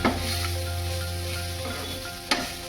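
Bitter gourd sizzles steadily in a hot pan for a Kannada palya, a continuous close frying hiss over a low hum, with one sharp stirring scrape near the end.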